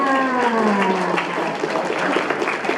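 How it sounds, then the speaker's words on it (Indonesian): Lively, loud applause erupts from guests at an 80th birthday party, close and continuous, with a brief tonal whistle or cheer sliding down at the start before the clapping carries on alone. "Beri tepuk tangan yang meriah."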